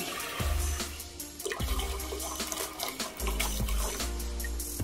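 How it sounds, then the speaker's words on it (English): Tap water runs and splashes into a cooking pot for a hot and sour chicken soup, several pours of cups in a row, a steady loud rushing that starts and stops with short gaps. "On the medium heat, you need to pour 6 cups of water."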